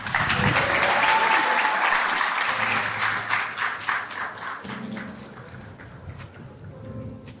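Graduation audience applauding for a theatre arts graduate at a secondary school ceremony, dense sustained clapping that stays loud before gradually thinning and fading, with faint voices beneath.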